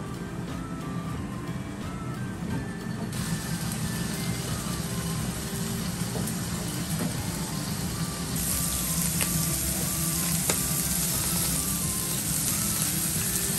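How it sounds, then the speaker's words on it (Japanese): Liver frying in a pan, a steady close sizzle with crackling pops throughout, continuous and moderately quiet with no talking. "このお肉の音がとても良い。"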